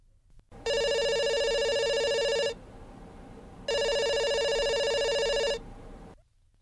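A telephone rings twice, each long electronic trill lasting about two seconds with a pause between, clear and alone.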